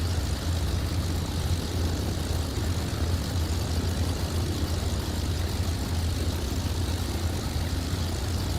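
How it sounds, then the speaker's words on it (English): An ATR 72-600 turboprop idles in Microsoft Flight Simulator 2024, a constant, even propeller and engine drone with a low hum that holds steady without change. "the engine sound is just idle"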